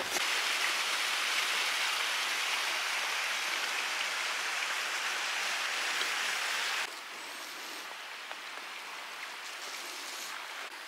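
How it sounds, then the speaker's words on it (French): A river in Lapland flows steadily as a broad, even hiss of rushing water, close and unbroken, dropping slightly in level partway through but continuing without pause. "je vous montre juste vite fait la rivière"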